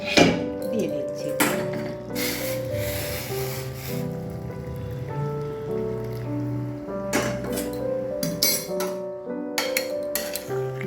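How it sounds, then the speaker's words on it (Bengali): A spoon stirs chicken pieces with hot water in a cooking pot for a Bengali potato and chicken curry. Close clinks and scrapes against the pot come in bursts, with quieter stretches of sloshing between them. "জলের সঙ্গে মাংস ভালোভাবে মিশিয়ে দিলাম।"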